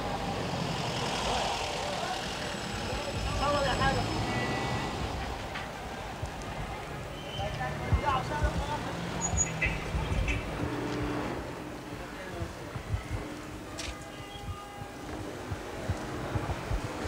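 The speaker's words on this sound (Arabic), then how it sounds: "صوت محركات" Busy city street traffic rumbles steadily, with car engines droning and passing vehicles, plus intermittent clatter and faint distant voices throughout.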